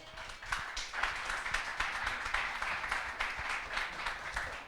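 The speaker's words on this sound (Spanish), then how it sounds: "Dale un aplauso al Señor" A church congregation applauds during a service, a steady, fairly quiet clapping with a faintly rhythmic pulse of many hands running throughout without any voices.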